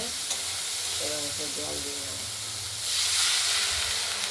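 Poppy-seed drumstick curry in a wok gives a loud steady hiss of steam and sizzle, swelling as it is stirred, with a brief low rumble partway through.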